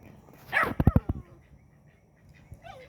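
A dog barks in a quick burst of four or five sharp barks, fairly close, then quiet with faint background noise.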